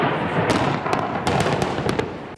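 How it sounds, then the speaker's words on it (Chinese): A series of sharp cracking blasts and bangs over a dense rumbling roar, heard during strikes on the coastal city of Tyre in southern Lebanon. "海岸城市泰爾傳來劇烈爆炸"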